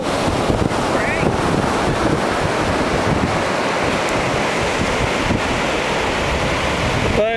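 Ocean surf on the beach at LaPush, a broad steady wash of waves heavily buffeted by wind noise on the microphone, with a brief voice near the end.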